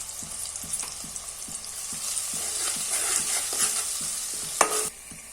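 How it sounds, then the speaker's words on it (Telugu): A spoon stirs a tempering of fried onion, ginger paste and turmeric in a hot pan, scraping in a steady quick rhythm of about three strokes a second over a soft continuous sizzle. "మరొకసారి తాలింపుని కలుపుకుందాం"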